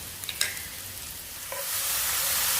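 Chicken breast frying in a hot pan over medium heat, a steady broadband sizzle that swells louder in the second half, with a few light clinks of a utensil near the start.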